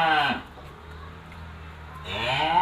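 A five-month-old cow at a cattle sale moos twice, near and loud, once at the start and again at the end, with a quiet pause between.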